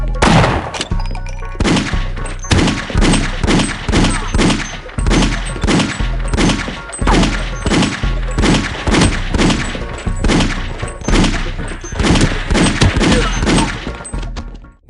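A steady, rhythmic string of loud gunshots fired one after another at regular intervals in a fast-paced Half-Life boomer-shooter game, each shot punchy and close with a thudding low end.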